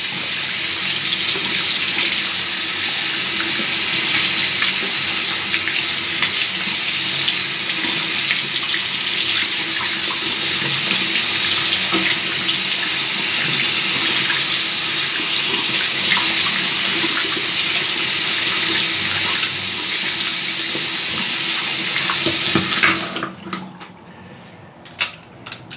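Tap water runs steadily from a faucet, rinsing salt off a telescopic fishing rod. It hisses loud and continuous for most of the stretch, then cuts off near the end, leaving a few small drips and handling sounds.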